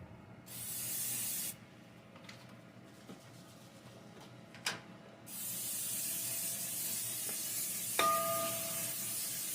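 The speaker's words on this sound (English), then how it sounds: "we're going to spray the pan" Cooking spray misting a pan before potatoes go into an air oven, a close, soft hiss in a few bursts with quiet pauses and small clicks between them.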